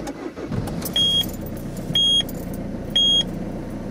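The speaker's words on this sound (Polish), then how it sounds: "Samochód odpalił, ale licznik nie działa." A Citroen Berlingo 1.6 HDi diesel engine starts and settles into a close, rumbling idle, while three short electronic beeps sound at regular one-second intervals over it.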